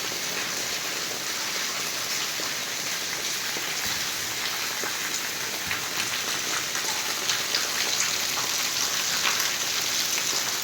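Gentle evening rain falls continuously at Kalasar near Chotila, Gujarat, an even hiss of drops with slightly heavier patter toward the end, no voices.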